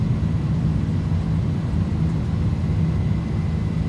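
Airbus A310 jet engines at takeoff power during the runway roll in Microsoft Flight Simulator, a steady, loud, low rumbling roar that holds constant throughout with no talking.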